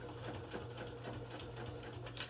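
A sewing machine back stitching fabric, a steady fast mechanical whirr and needle chatter, faint and close, with no talking.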